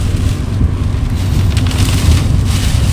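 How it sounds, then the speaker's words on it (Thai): Rain and gusting wind during Tropical Storm Nicole in Florida, a loud continuous rushing wash with wind buffeting the microphone, no voices. "เพราะว่าฝนมันตก"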